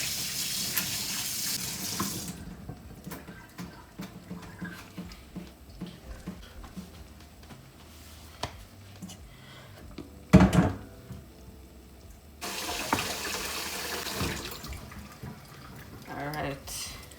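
Tap water runs into a sink while a pan is washed, a rushing stream at the start and again near the end, with clatter and movement between and occasional talk.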